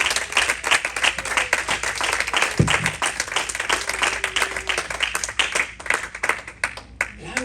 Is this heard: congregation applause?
yes